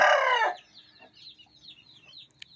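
An Aseel rooster gives one loud, close cluck-like call, followed by fainter soft clucks and distant bird chirps.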